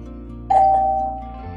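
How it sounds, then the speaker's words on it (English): A home doorbell gives a single clear electronic chime that rings out and slowly fades, set against a steady low hum with no talking. "Somebody's ringing my doorbell."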